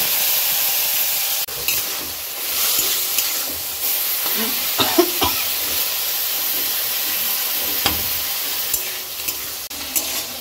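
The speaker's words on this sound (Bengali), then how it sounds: "অল্প সামান্য ভাজা হয়ে গেছে, দিয়ে দিচ্ছি এই সবজিটা।" Mixed vegetables sizzle in white oil in a pan, a steady crackling hiss punctuated by sharp scrapes and knocks of stirring throughout.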